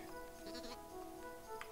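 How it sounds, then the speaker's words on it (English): A sheep bleating in the video game Carto, a few short, faint bleats over a steady game music bed, with no talking. "A sheep."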